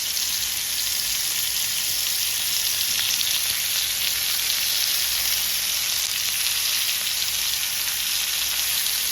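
Chicken tikka sizzles steadily in a pan over a medium gas flame, a bright continuous frying hiss that stays close and even throughout with no talking.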